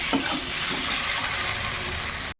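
Chilli powder and turmeric sizzle loudly in a hot pan as water goes in, making a dense, constant hiss that cuts off abruptly at the end.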